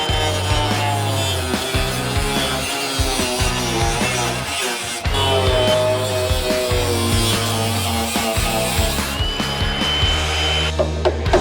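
A power tool grinds and cuts through welded corners of a car body panel on a VK build restoration, a loud continuous whine with stuttering changes in pitch as the blade bites and eases off.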